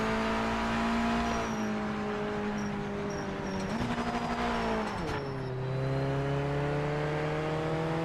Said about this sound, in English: I'm changing down too early and the back end's not happy